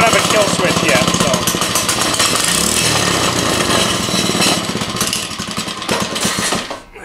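A small engine with its head bolts removed runs loud and steady at close range, its rough, buzzing tone close to a chainsaw's, continuous through the clip. Voices talk over it.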